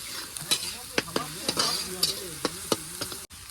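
Spoon scraping and stirring spices into chicken sizzling in a pan, with rhythmic clinking strokes about twice a second over a steady frying hiss, close and fairly quiet.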